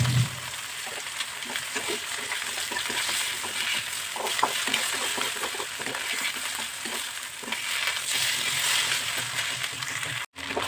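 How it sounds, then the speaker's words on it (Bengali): An egg fries in hot oil in a home kitchen, a soft steady sizzle and crackle with a few faint utensil clinks, fairly quiet and continuous, without speech. "প্রথমে তেল গরম করলে ডিমটা দিয়ে দিলাম।"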